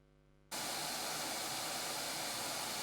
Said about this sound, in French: on va lancer la génération du bruit blanc